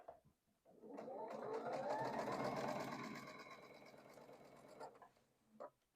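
A sewing machine runs in one steady burst as quilt pieces are chain-pieced, stitching whirring loud and close for a few seconds before stopping, with small handling clicks around it.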